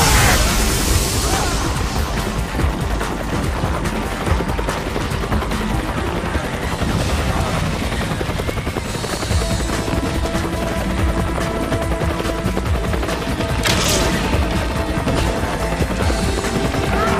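Resident Evil 5 Mercenaries gunfire crackles in rapid bursts over a dense, noisy battle soundscape, with occasional louder blasts standing out amid continuous rumbling.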